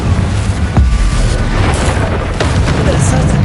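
A loud Confringo spell explosion in Hogwarts Legacy booms amid dense combat noise, with a sharp crack early on and another impact later. The layered, continuous rumble sits close and full.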